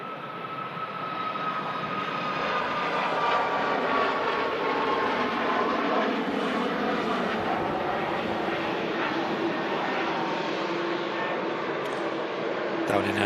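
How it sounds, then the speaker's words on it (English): A smaller TUI passenger jet departing Manchester Airport, heading for Paphos, produces a loud, continuous engine roar throughout, with people talking over it. "Another aircraft departing. It's another TUI, this time a bit of a smaller one."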